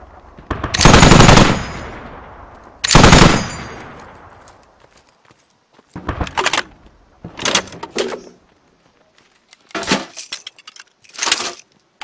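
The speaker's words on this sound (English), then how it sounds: "Whoever's shooting that machine gun," Machine gun fire in a combat video game, loud close bursts of rapid automatic shots, two long sustained volleys followed by several shorter bursts separated by brief quiet gaps, no talk over them.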